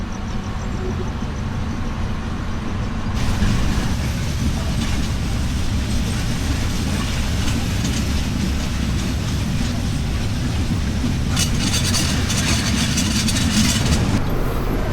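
A train pulls out of Tangail station at night, a steady low rumble of wheels and engine running throughout, with a brighter rattling surge partway through and again near the end.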